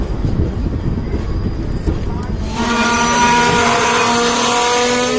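A train rumbles into a station on the Najibabad–Gajraula line via Bijnor, a low, loud clatter that gives way to a sustained metallic brake squeal with steady tones as it slows.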